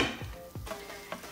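Sliced Spam frying in a pan, a soft steady sizzle broken by a few scraping, clinking strokes of a utensil against the pan.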